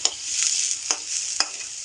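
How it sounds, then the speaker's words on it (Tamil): Onions sautéing in a pan (sattі) for chicken rice, a steady close sizzle with several short scraping stirs of the spatula spaced through it, no voices. "கொஞ்சம் வெங்காயம் அதிகமாகவே சேர்த்துருக்கோம். நம்ம சட்டியில் போட்டோம். இதை இப்போ நல்லா வதக்க போகிறோம்."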